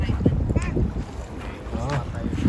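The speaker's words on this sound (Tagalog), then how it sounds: "Mahangin kasi, no?" Gusty wind buffeting the microphone with low rumbling bursts, while people talk nearby outdoors.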